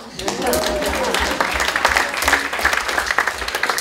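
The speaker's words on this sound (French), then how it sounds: "Alors je crois qu'on peut m'applaudir." A festival audience breaks into applause for a comedian, a short burst of dense clapping with murmuring voices mixed in beneath it.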